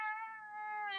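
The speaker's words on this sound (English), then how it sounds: "Is that a cat or is that you, Fantasy?" A single clear, close cat meow rises and falls over about a second in a quiet room.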